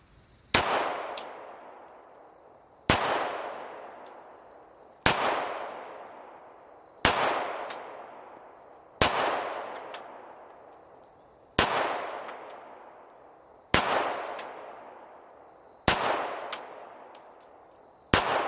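Eight pistol shots fired left-handed in a Mantis X training drill, each a sharp loud crack trailing into a long ringing decay, spaced about two seconds apart in an even rhythm, with no talking.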